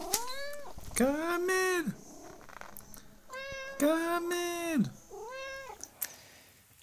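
A domestic cat meows several times in long, drawn-out cries, loud and close, with a person calling between the meows.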